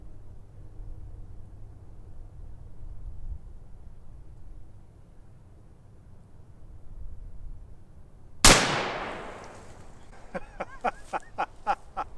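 Henry side-loading lever-action rifle fires a single Remington round at a 20-foot range, one sharp loud crack after a quiet stretch, followed by a rapid series of faint high clicks and squeaks.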